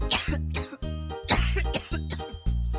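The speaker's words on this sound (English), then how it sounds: "He blew so hard that it made Tammy cough." Repeated coughing from a child in a cartoon scene, roughly six harsh bursts in a steady rhythm, close and loud with no other voices.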